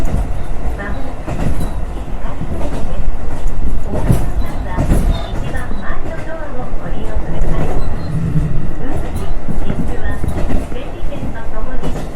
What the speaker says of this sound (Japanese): 列車は石狩川水系の雨竜川を渡っていきます。